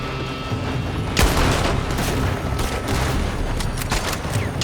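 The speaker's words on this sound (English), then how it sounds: "They're shooting from that building!" Loud, dense gunfire crackles through a shootout in Red Dead Redemption 2, with rapid overlapping shots and booming reports that go on continuously, some sharper cracks standing out near the end.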